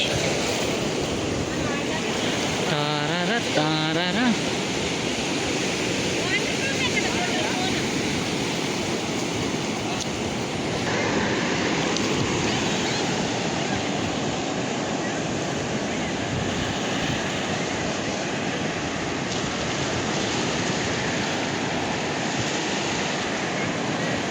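Ocean surf rolls steadily onto Rishikonda beach, a continuous loud wash of breaking waves with wind buffeting the microphone throughout.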